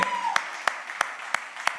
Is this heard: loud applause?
yes